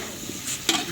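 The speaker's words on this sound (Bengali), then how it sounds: "এই যে বাঁধাকপির আলু ভাজা হচ্ছে" Potatoes for a cabbage curry fry in a pan at an outdoor Christmas picnic, a soft continuous sizzle with a couple of brief stirring scrapes close by.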